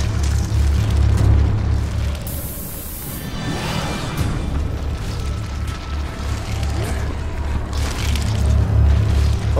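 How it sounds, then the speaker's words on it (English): A bottle bomb bursts in Resident Evil Revelations 2 on Xbox One. One loud, close explosive blast with a sharp rushing burst flares briefly over a constant deep rumble of game noise. "You used your exploding bottle."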